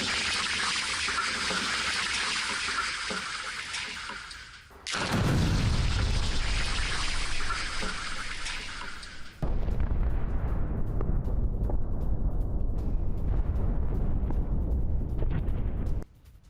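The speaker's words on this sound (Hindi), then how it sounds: "विस्फोटक धमाकों से दहले खान यूनिस को लेकर खबर आई" Explosions from Israeli strikes on Hamas-linked buildings in Khan Younis, Gaza: loud, sustained roaring blasts in three long surges, each with heavy low rumble, and no voices.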